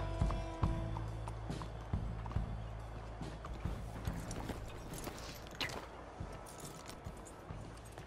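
Horse hooves clip-clop in Red Dead Redemption 2 as a rider slows to hitch up, with steady near hoofbeats over low ambient game music and an occasional whinny.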